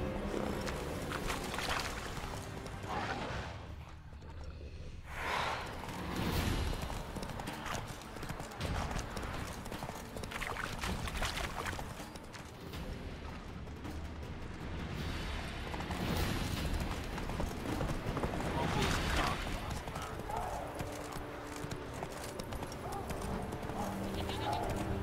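Horse hooves clip-clopping steadily while riding off-road in The Witcher 3, a continuous walking-to-trotting rhythm heard up close, with an occasional whinny, game ambience and someone talking over it.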